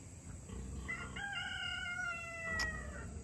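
A rooster crows once on a chicken farm, a clear drawn-out call at moderate distance over a steady low background hum, with no voices.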